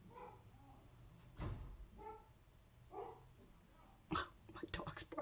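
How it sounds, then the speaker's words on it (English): A dog barks in the background in a home, two or three sharp barks near the end, while someone talks quietly over most of it. "my dog's barking."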